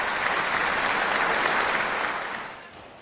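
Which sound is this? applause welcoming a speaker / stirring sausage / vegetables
applause welcoming a speaker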